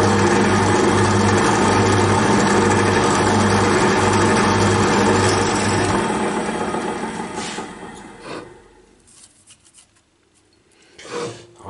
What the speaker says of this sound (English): Let's do some more scary drilling.